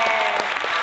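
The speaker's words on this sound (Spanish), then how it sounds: "un aplauso para Indira Urbaneja" Audience applause for a woman being introduced at an evening show: a dense, steady wash of many hands clapping, close and loud, with no voices on top.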